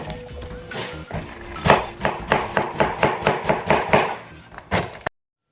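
A knife chopping celery finely on a cutting board, a quick even run of about a dozen crisp taps close up that stops abruptly, with no one talking.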